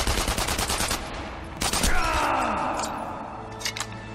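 Heavy gunfire in the shooter video game Enemy Front, with dense bursts of rapid shots and a loud blast-like swell partway through, followed by a ringing tail. Some speech-like voices are mixed in.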